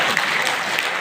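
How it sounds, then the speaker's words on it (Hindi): Loud, dense audience applause from a crowd at a stage show, steady and continuous throughout the short burst with no talking over it. "एक बार अपने लिए जोरदार ताली"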